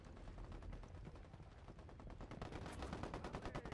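Sustained rapid gunfire from a Ghost Recon Wildlands ambush firefight, dense overlapping bursts and automatic shots continuing loudly throughout with no gaps.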